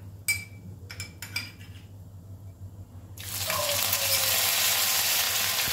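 Spices tempering in hot oil for a vegetarian chana dal, with ginger paste then added: after a few light taps and stirs, a loud, steady sizzle bursts up and keeps hissing close by to the end.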